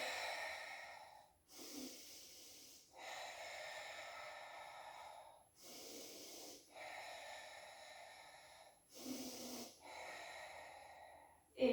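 Repeated breaths during a Pilates exercise, a slow rhythmic cycle of airy inhales and exhales close to the microphone, with short pauses between them and no talking.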